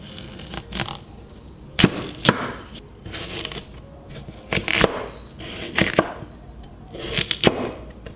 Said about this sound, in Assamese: এইদৰে সৰু চাইজতে কাটি লৈছোঁ